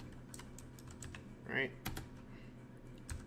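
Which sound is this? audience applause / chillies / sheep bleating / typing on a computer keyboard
typing on a computer keyboard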